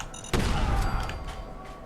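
A single heavy shotgun blast from Fallout 4 booms close and loud, its roar lingering and ringing out for over a second.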